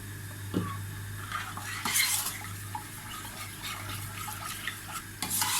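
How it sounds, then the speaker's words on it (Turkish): A spoon stirs Black Sea corn soup with fresh mint in a metal pot, producing soft scraping and light clinks of utensil on pot, faint and close, with a steady low hum underneath. "Şöyle güzelce karıştırdım."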